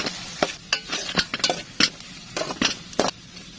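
Chopped onions stirred in a hot pan, with a soft frying sizzle broken by about eight sharp scrapes and clacks of the spoon against the pan, close up.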